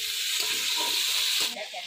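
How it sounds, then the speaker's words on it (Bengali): Potatoes and cauliflower fry in a pan until reddish, giving a continuous, close hiss and sizzle, with a brief spoken word near the end. "আলু ফুলকপি ভাজা হয়ে গেছে, লাল লাল করে ভাজছি"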